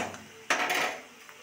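Boiled cabbage is moved into a bowl with a single sharp metallic clatter of utensil against dish, followed by a short fading ring and quiet scraping.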